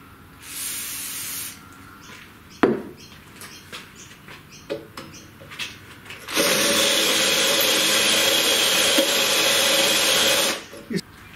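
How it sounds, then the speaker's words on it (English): Power drill boring into wood while building a CNC router with simple woodshop tools: a short close whirring burst, then a longer steady drilling run of about four seconds, loud and near. "what I'm doing is I'm just moving the drill like this, sort of a cam effect, and that stops the drill bogging down"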